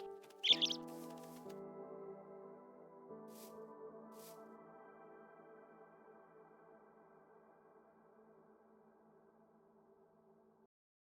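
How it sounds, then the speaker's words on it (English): Robins in a Minecraft ATM 9 modpack world give a couple of short, faint chirps over a soft, steady ambient game tone that slowly fades out. "Robins, these are some robins right here."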